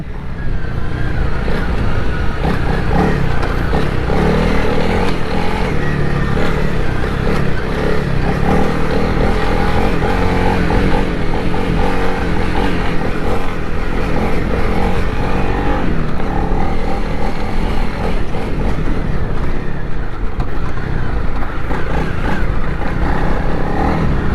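A 2021 Honda CRF300 Rally motorcycle being ridden, its engine droning loud and constant throughout, with wind rush and rough clattering mixed in, close to the rider.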